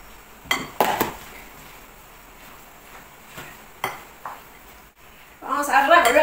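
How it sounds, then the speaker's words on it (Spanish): Salpicón of beef with lettuce and cheese gets stirred in a large bowl, with scattered clinks and scrapes of a utensil against the dish, then a louder burst of mixing near the end. "ya que tenemos aquí nuestra lechuga y nuestro queso, vamos a revolver"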